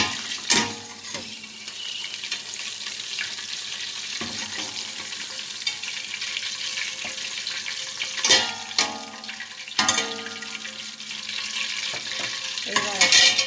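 Prawns (gambas) fry in hot oil for a Vietnamese-style dish, a steady close sizzle and crackle broken by a few sharp louder bursts as the pan is stirred or moved.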